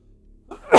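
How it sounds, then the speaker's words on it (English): A single sneeze from a person: a quiet intake of breath, then a sharp, loud burst of air at the end. "I'm going to sneeze again."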